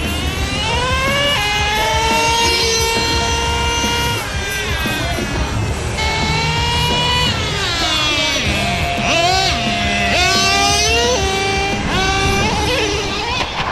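A Traxxas Revo 3.3 nitro RC truck screams past with a high, rising and falling two-stroke whine, loud and continuous, its pitch sweeping up and down as it accelerates and shifts.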